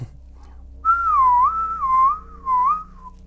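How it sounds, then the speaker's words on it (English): A person whistles a loud, clear wavering tune in three rising and falling phrases, close and alone over a low steady hum. "The butcher started to whistle."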